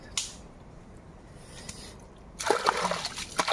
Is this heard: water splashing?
yes